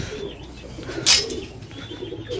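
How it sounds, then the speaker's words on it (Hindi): Pigeons cooing around a rooftop loft, soft low coos with a sharp brief flutter or clatter midway, close by amid background noise. "बहुत कबूतर आए आ गए।"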